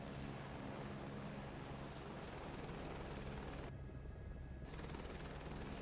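Aircraft taking off in Microsoft Flight Simulator 2024, a continuous loud engine and propeller drone with a brief dip in the upper hiss near the end, no voices.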